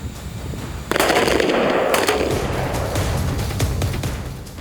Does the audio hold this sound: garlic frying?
no